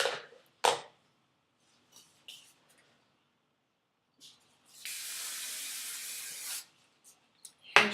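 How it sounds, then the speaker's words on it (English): Hairspray from an aerosol can misting onto teased bouffant hair in one steady hiss of nearly two seconds, close and clear, after a few quiet handling sounds. "Hairspray."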